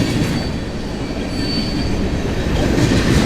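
Long freight train rolling past at a rail junction near Paris, Ontario, a steady loud rumble of wagons and wheels with faint high wheel squeal throughout, no talking.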